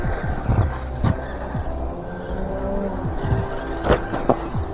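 A Tamiya Frog 2.0 DT-03 electric RC car on a 2S LiPo runs laps on a track, its motor whining in brief bursts with a few tire chirps and skids, passing nearer and farther.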